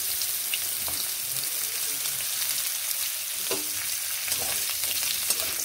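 Drumstick pieces frying with tempering spices and black cumin, a close crackling sizzle with occasional stirring scrapes and small pops.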